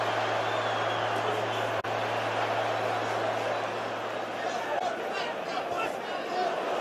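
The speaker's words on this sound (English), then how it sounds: "You hear the crowd's reaction." Boxing arena crowd at a Canelo Alvarez vs Billy Joe Saunders title fight, a steady loud roar and murmur of thousands of spectators reacting to a near-miss uppercut, with a brief sharp break early and swelling excited chatter throughout.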